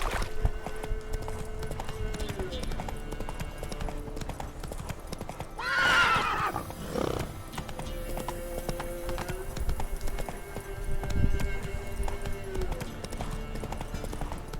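A horse gallops with steady, rhythmic hoofbeats in The Witcher 3 video game, a whinny rising midway, with game music and ambience underneath.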